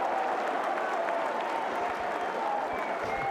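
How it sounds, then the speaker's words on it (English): A cricket crowd at Lord's during England v India, a broad, steady wash of applause and murmur from a big stadium audience, heard at a distance and moderately faint, with no talk. "Listen to that crowd."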